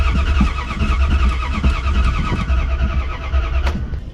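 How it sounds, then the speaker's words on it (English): A 1989 Dodge D250 pickup engine is cranked over by the starter without firing, giving a steady rhythmic churning with a low rumble throughout and one sharp click near the end, with no talk. "So we'll go ahead, crank it over again."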